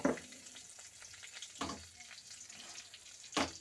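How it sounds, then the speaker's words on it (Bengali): Whole garam masala, dried red chillies and a bay leaf hit hot oil in a pan, giving a steady close sizzle with a few sharper bursts of spattering and stirring, no voices. "এবারে আমি তেলে দিয়ে দিচ্ছি গোটা গরম মশলা, শুকনো লঙ্কা,"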